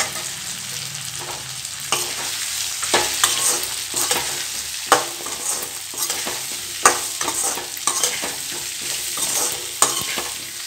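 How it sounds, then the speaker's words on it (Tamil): Guava pieces sizzling and frying in a pan for guava chutney, with repeated scraping and stirring clatters from a utensil throughout, no voices. "லைட்டாக அந்த பச்சை வாசம் போகிற அளவுக்கு வதக்கிக்கோங்க, போதும்."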